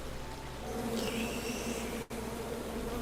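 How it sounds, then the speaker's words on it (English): Angry bees buzzing in a tree in the King's Quest video game, a steady, close insect drone that carries on throughout with a brief cut near the end. "you chop down the tree full of angry bees"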